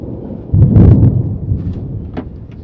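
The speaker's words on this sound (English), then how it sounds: "Our goal: get camp set up before the thunder." A low, rumbling roll of thunder swells and lingers for a couple of seconds, broad and fairly loud, with no voices present.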